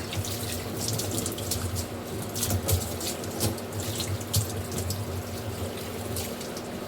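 Water is poured over a kitchen gas stove to rinse it after scrubbing, a steady running splash near and fairly soft, continuous for several seconds with no voices.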